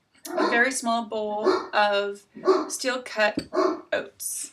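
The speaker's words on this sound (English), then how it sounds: "Excuse my dogs if you heard them barking." Household dogs bark off to the side, faint and partly buried under a person talking steadily close to the microphone in a kitchen.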